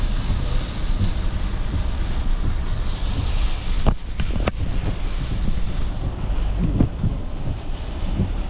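Strong coastal wind in South Australia roars and buffets steadily throughout, with surf-like rushing underneath and a couple of brief sharp knocks partway through.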